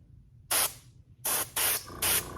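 Short hissing bursts of an airbrush spraying paint onto a fishing lure, four in quick succession, close and fairly loud with quiet gaps between.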